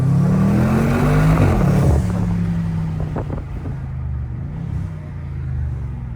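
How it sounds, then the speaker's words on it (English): A BMW M550i with loud cold air intakes and turbos accelerates hard, its engine note rising and then easing, with a rushing sound of air being drawn in. Heavy wind noise runs throughout, close and loud, and no one speaks. "definitely hear a lot of air being sucked in, or I don't know if it's the intake itself making that noise or if it's the turbos"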